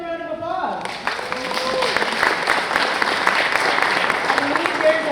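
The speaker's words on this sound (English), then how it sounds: "Let's give them a round of applause." An audience at a mayoral candidate forum breaks into sustained applause, steady dense clapping filling the room after a brief spoken lead-in at the start.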